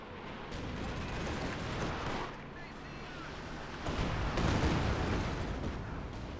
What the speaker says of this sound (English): Katusha firing. A little short.